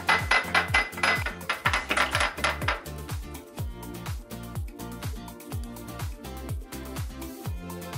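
A dark purple crayon smashed in a bowl, sharp clinking and tapping hits in quick bursts, crisp and close at first, then softer repeated knocks, with no voice.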